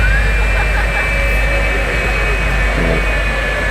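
A jet-powered truck, part truck and part wingless experimental airplane, roars with a loud, steady jet-engine howl and a high whine, sustained without pause at close range.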